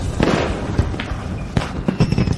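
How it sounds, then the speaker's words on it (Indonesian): Fireworks burst and crackle in a rapid series of sharp pops and booms, some near and loud, others softer and scattered, with no voices. "Itu kembang api."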